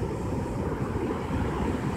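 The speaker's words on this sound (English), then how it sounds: "You can see the waves." Ocean waves rolling in at Jensen Beach, a steady broadband wash of surf with a low rumble and some wind noise, continuous and fairly close, no voices.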